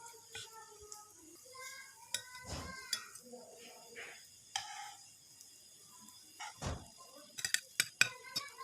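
Fried chicken vegetable kebabs are served onto a plate, with scattered clinks and taps of utensils against dishes, soft and close, in short irregular bursts amid quiet pauses.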